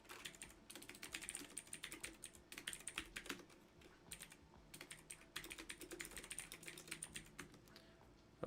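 Rapid bursts of keystrokes clatter on a computer keyboard, coming in quick runs separated by short pauses, close and fairly quiet, with no talking.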